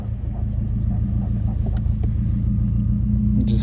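A Subaru WRX narrow-body hatchback idles with a steady low rumble, close and loud, holding an even drone throughout with a few faint clicks near the end.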